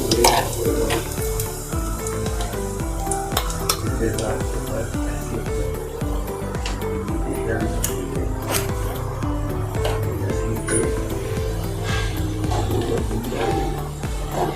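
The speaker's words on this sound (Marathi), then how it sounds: "तूप छान गरम झालं आहे, त्यामध्ये आपण ड्रायफ्रूट आणि खसखस घालून घेऊया." Dry fruits and poppy seeds fry in hot ghee with a bright, continuous sizzle and spatter, joined by stirring clatter, under a voice and steady tonal background sound.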